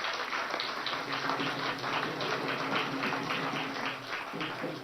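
A large crowd applauds at a political rally in Madhya Pradesh to welcome Nitin Gadkari, a dense, steady roar of clapping mixed with background music and some distant voices.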